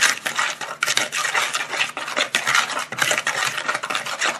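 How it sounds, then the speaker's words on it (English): A spoon stirs persimmon pie mixture in a bowl, making steady, loud scraping and rubbing strokes in a quick repeated rhythm with no pauses and no talk. "we're going to take the spoon here and"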